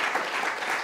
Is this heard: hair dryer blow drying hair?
no